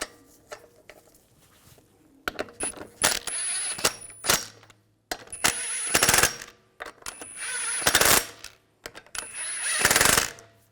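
Power tool run in short bursts to snug the lug bolts on a 2006-2010 BMW 550i wheel, giving rapid rattling hammer pulses with metallic clinks, repeated in four or five close, moderately loud spurts separated by brief pauses.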